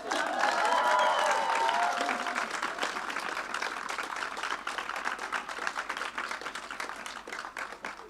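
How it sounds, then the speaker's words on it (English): Audience applause fills a graduation ceremony hall, loud and steady clapping from a large crowd that slowly thins toward the end, with brief cheering early on. "Please give a round of applause for my best friend and comeback kid himself, Sammy."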